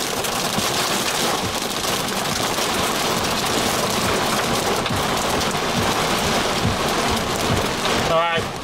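Heavy rain and hail pound a car steadily during a Texas tornado storm, a loud, dense roar that holds without a break, with a brief sharper sound near the end.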